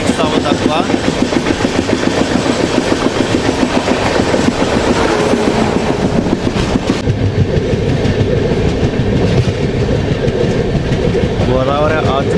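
Tirupati to Visakhapatnam AC double decker train running, a steady loud rumble with rhythmic clickety-clack of wheels on rail joints throughout, heard from inside with faint voices in the background.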